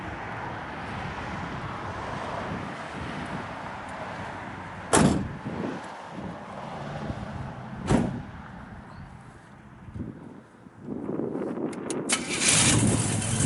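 A 1968 Chevrolet Camaro SS engine starts and rumbles close by, with two sharp thumps partway through, then the engine noise swells into a louder roar toward the end.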